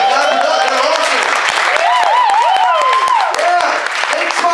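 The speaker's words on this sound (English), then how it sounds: "Yeah, clap it up, they're awesome." A comedy club audience claps steadily for the venue owners, with cheering voices and whoops rising and sliding above the continuous applause throughout.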